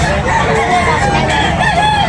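Close, loud rooster crowing at a busy chicken selling market, one drawn-out crow with wavering pitch carrying steadily through the moment without any voices.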